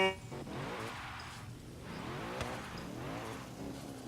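A drift car launches on its qualifying run, engine revving and climbing as it accelerates away with some tire noise, heard at a moderate distance and fairly faint, with no talking.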